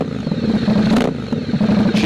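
A 2019 Ducati Diavel S motorcycle fitted with a full exhaust system revs loudly and close by, its deep rumbling engine note swelling in two bursts and settling back to a rough idle in between.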